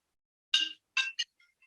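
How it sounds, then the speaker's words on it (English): A mobile phone ringing indoors, a short burst of three bright chiming electronic tones followed by fading faint echoes, heard alone without talk. "my phone rang."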